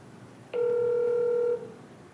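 A ringback tone from an unanswered phone call: one steady, clear electronic tone held for about a second, then cutting off with a short fading tail, heard alone against quiet background hiss.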